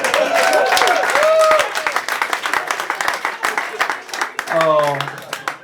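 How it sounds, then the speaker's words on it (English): An audience applauds at a stand-up comedy show in Hamburg, a dense burst of clapping that thins into scattered claps as a voice speaks over it. "Give him a round of applause."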